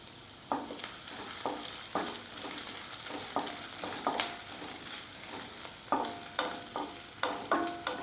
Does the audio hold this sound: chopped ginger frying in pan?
yes